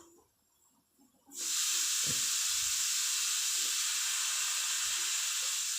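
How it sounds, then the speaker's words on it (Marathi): Sandge, dried lentil dumplings, deep-frying in hot oil, beginning with a faint clatter before a steady, loud, bright sizzle bursts in and carries on unbroken, with a few soft knocks beneath. "आता हे आपल्याला पूर्ण सांडगे तळून घ्यायच्यात"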